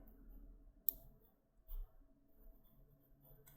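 A single crisp computer mouse click, close and quiet, followed by a soft thud against a faint background hum.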